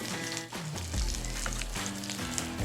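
Smoked sausage fries in a pan with steady close sizzling and crackling, with low rumbling and clattering from stovetop handling running underneath.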